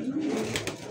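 A breeding pair of Giribaj pigeons gives a short, close, soft throaty coo.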